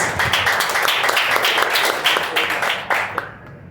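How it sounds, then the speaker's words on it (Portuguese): A church congregation claps loudly for a visiting evangelist, a dense, sustained burst of many hands close and steady, with voices mixed in, before tapering off abruptly near the end. "Receba o homem de Deus com palmas bem fortes para Jesus."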